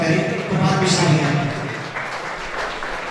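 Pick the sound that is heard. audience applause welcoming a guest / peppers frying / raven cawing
audience applause welcoming a guest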